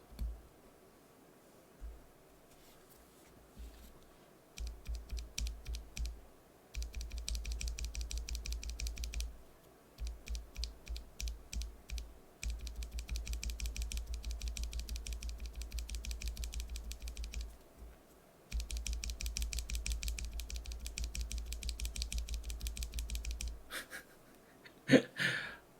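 Bursts of fast typing on NovelKeys Cream mechanical switches, lubed and fitted with switch film, a dense close clatter in several long runs separated by short pauses, ending with a few louder single clacks.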